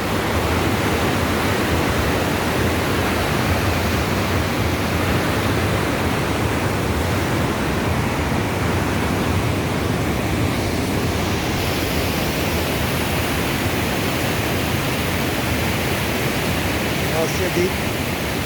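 A mountain river rushes over huge boulders in a wild gorge on the trek from Sagar village to Bantoli, a loud, continuous roar of churning water filling the whole stretch.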